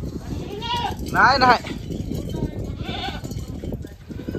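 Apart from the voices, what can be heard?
goats bleating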